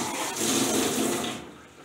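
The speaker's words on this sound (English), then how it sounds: "So I have to add a little water to this." Water pours into a pot of thick curry goat, a brief loud splashing gush that swells then tapers off after a second and a half.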